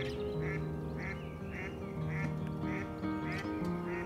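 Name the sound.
duck quacking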